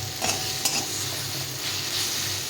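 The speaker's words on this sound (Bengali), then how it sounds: "মশলাটা ভাজা ভাজা হয়ে গেছে, এখন পেঁয়াজের সঙ্গে এটা সবটা ভেজে নেব" Fried spice paste and onions sizzle in a pan, fairly quiet, with a couple of sharp scrapes of a stirring utensil over the continuous frying hiss.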